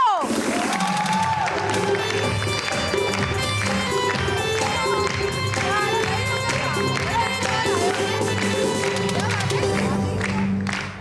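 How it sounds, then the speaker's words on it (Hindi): A studio audience on a Pakistani entertainment show bursts into sustained applause and cheering, a dense, loud wall of clapping and crowd noise with background music, lasting throughout as a host welcomes a couple onto the stage. "आपकी बहुत सारी तालियों में बुला रही हूँ फातिमा और कुमार को।"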